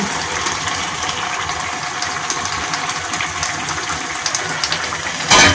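Liquid pours steadily into a pot with a continuous gushing rush, ending in a brief louder splash.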